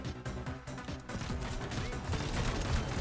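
Dense combat in the game Trailmakers: rapid gunfire bursts and booming explosions layered over a continuous rumbling score, loud and busy throughout.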